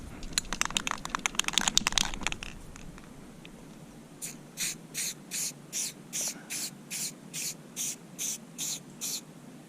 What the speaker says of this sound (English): What I have here is a Rust-Oleum Ultra Cover paint and primer.